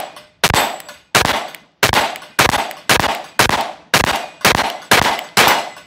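Rounds go one by one into a SIG P365 pistol magazine, giving a loud, evenly spaced series of about nine sharp metallic clicks, each fading quickly before the next.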